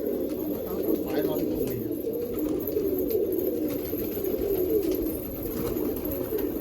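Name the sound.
pigeons cooing in a loft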